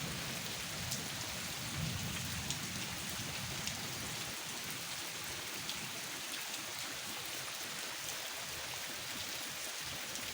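Heavy rain pours down steadily in a dense, continuous hiss with constant drumming on surfaces, unbroken for the whole stretch and with no voices.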